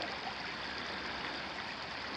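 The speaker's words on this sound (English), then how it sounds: "I could actually hear the water as I was coming up." Steady rushing water flows continuously, a broad even wash of creek noise with no voices, fairly close and constant throughout.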